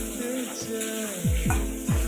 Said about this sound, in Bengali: দিয়ে দিলাম একটু ভাজবো তেলে